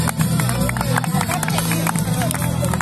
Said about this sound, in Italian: E adesso un applauso anche a Pantera Nera